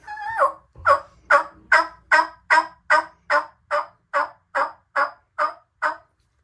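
Fast series of about fourteen evenly spaced turkey yelps, crisp and close, made by a person on a mouth-operated turkey call, a voice imitating the bird with no other sound.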